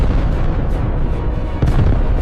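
A loud, continuous low rumbling roar of an explosion shaking a whole city, the atomic bombing of Hiroshima, filling the clip with dense deep booming and a brief sharper burst near the end.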